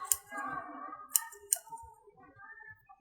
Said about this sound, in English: I'll cut it here.